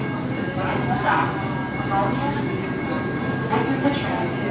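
A light rail train pulls into West Side Avenue station with a steady, loud rolling rumble and wheel noise that swell slightly as it arrives, heard close by. A faint voice may sit under the noise.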